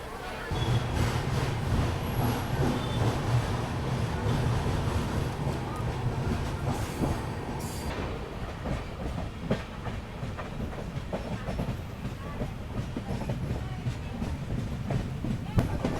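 A train running along the railway track on a scenic route near the Bhutan border, producing a steady low rumble with rhythmic clickety-clack and wind noise throughout, heard from aboard at moderate loudness.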